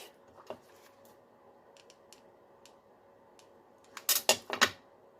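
Scissors cut a strip for an Easter basket: a few faint snips early on, then a quick cluster of four or five crisp, close cuts near the end in a quiet room.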